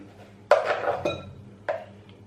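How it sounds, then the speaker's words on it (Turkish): Metal spoon knocks and scrapes against a bowl while kısır, a bulgur salad, is mashed and mixed: a few distinct clinks spaced apart, close and fairly quiet, with no talking. "Böyle kaşığım ile eze eze karıştırıyorum arkadaşlar."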